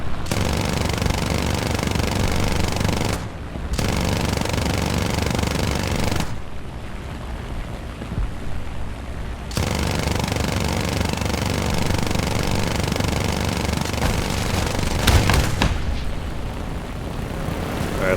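Rapid-fire 7.92 mm machine guns on an A7He1 aircraft in War Thunder air arcade: loud, sustained bursts over engine drone, cut by a few short pauses.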